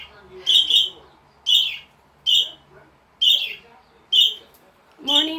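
Pet budgies give bright, high chirps in six evenly spaced bursts, each a short cluster of notes separated by quiet pauses.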